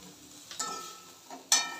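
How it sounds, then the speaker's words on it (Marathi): Bitter gourd being sautéed in a pan with salt: soft sizzling under two sharp spatula scrapes against the pan, quiet and close, with no voices. "चांगली परतून घ्यायची।"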